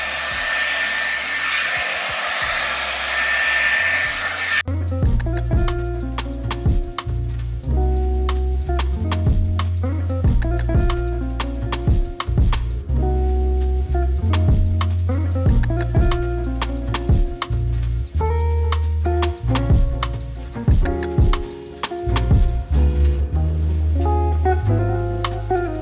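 A Dyson Airwrap blow-drying hair blows with a steady, close whoosh for about five seconds before music takes over for the rest.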